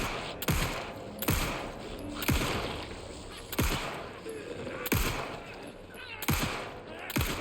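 Gunfire in the video game Alan Wake II: six loud, booming shots spaced about a second apart, each with a sharp crack and a short ringing tail over a dark ambient backdrop.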